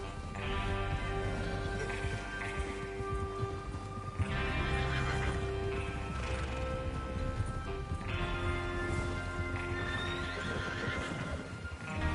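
Horses in the Western video game Red Dead Redemption neigh and whinny repeatedly over steady clip-clopping hooves, loud and close throughout, with no talk.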